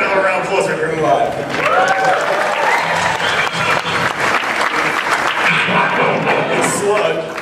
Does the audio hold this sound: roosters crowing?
no